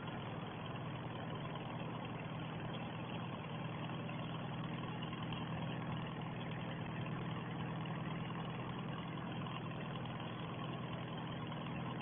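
A Farmall 300 tractor engine runs at a steady idle, a continuous, even, low rumble with no variation in pace, heard alone.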